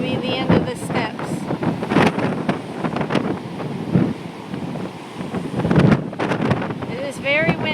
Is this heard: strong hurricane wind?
yes